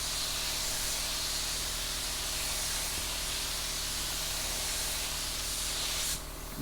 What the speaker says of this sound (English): So I'm going to put just a kind of a mist coat over it first.